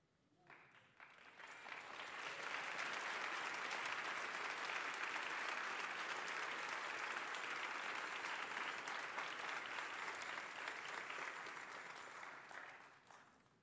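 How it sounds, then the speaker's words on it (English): A church congregation at Trinity applauds to welcome guests, a full, steady wash of clapping that swells in, holds for about ten seconds and fades out, with no talking over it. "The applause you hear is our way of saying welcome."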